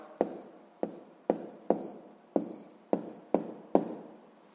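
Pen strokes on paper during a sixth-grade math exercise, eight separate scratchy marks at a steady pace of roughly one every half second, close and fairly quiet with no talking.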